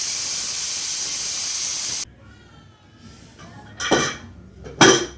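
A pot of chicken curry with palakala leaves boils with a loud, steady hiss for about two seconds. Then it goes quiet, broken by a few sharp clinks of utensils against the pot.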